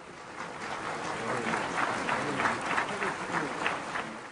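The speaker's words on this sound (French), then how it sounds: "ce tonnerre d'applaudissements" Enthusiastic applause from a large crowd builds and holds, thick rapid clapping with some voices mixed in, somewhat distant.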